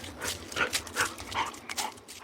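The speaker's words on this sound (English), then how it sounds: "5 pitties crowd you, sniffing but not growling." A pack of five pit bulls crowds in close, sniffing and snuffling in quick bursts with soft panting and faint whimpers, all up close and fairly quiet with no talking.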